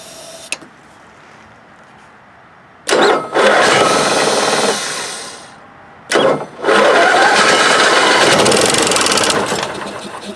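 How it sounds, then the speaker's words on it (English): An Onan Marquis RV generator engine with its air cleaner removed cranks on starter fluid in two loud bursts, each a whirring starter crank that briefly catches and fires before stopping, with quieter idle gaps between them. "Let's see if we can get to run on starter fluid here real quick."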